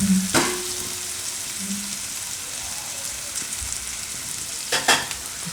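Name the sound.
garlic frying in oil in a pan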